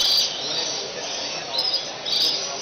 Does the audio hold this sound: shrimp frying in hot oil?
no